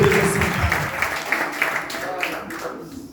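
Applause from a church congregation during a service, strong at first and gradually thinning out and fading as the clapping dies down.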